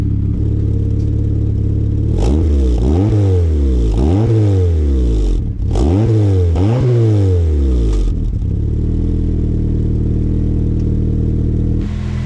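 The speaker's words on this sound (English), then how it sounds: "the exhaust system is not as loud as I thought it was going to be" A turbocharged Acura Integra's engine revs up sharply several times in quick succession, each rev climbing and falling, then settles into a low, rumbling idle close by.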